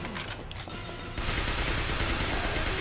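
Rapid automatic gunfire aimed at zombies in the School Girl Zombie Hunter video game, a dense continuous burst that gets louder and fuller partway through.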